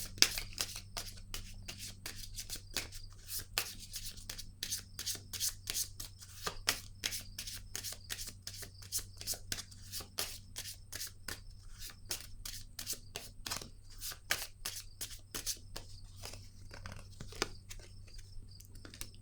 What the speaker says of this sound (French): Moi, je vais déposer une autre carte ici.